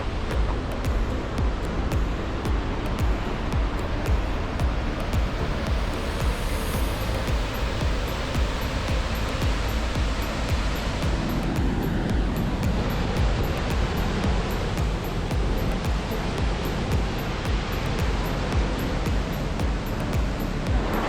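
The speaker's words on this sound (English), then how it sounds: "We're gonna walk up like basically as close as we can get to Gullfoss." Gullfoss waterfall in Iceland roars in a steady, loud, broadband rush heard up close in misty spray, with no voices over it.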